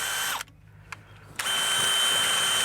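A power tool drives a 14mm socket near a John Deere tractor, running in two loud, close bursts of whirring with a short gap between them.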